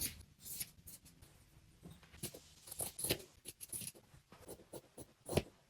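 Scissors snip through extra fabric on a thrifted garment being cut to a new hemline, giving a run of short, close crisp cuts with faint handling rustle between them and no talk.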